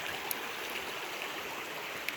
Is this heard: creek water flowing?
yes